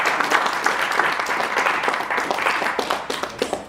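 Audience at a CEO fireside chat clapping for an award, a dense, continuous patter of many hands that stays fairly level and thins into a few sharper individual claps near the end.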